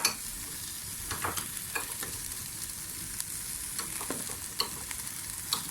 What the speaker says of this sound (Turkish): Arkadaşlar gördüğünüz gibi iki kaşık tereyağımızı atıyoruz.